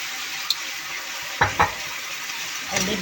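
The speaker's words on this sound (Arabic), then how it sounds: "قلبي بقى كده تقليبه حلوه" Spiced vegetables frying for Egyptian lentil soup, a steady sizzle with a few sharp clinks and scrapes of a spoon stirring the pan, no talk.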